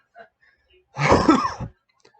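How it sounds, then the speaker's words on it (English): A woman coughs a few times in a short burst, slightly distant, with a faint sound just before and quiet around it. "Sorry, that's my girl coughing in the background too."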